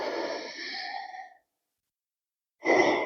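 A slow breath during a vinyasa yoga flow, a long, soft airy exhale followed by silence, then the start of another breath.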